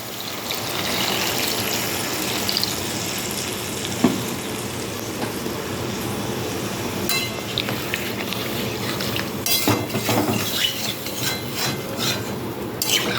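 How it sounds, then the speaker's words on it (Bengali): Water goes into a pot of chicken stew after the spiced chicken has been cooked down in oil. A continuous close sizzle and splashing bubble runs throughout, with a few sharp scraping clicks. "এই সময়তে আমি পরিমাণ মতো জল দিয়ে দেব।"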